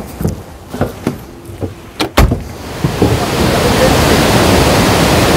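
Water rushes where the Rideau River meets the Ottawa River in Ottawa. A few sharp knocks and clicks come first, then a strong, steady roar of flowing water takes over and holds to the end.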